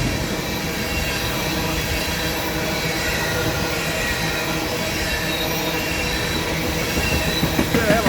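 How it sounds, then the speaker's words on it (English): Rails hum and squeal steadily as two Union Pacific locomotives roll along a recently ground CSX line, with a continuous loud metallic wheel-on-rail drone and faint clatter throughout. No one speaks. "Those rails are really singing."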